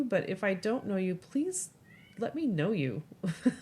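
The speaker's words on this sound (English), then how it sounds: "Sorry about my cat." A house cat meows briefly in the background during a podcast recording, a short high cry between stretches of a woman's steady speech.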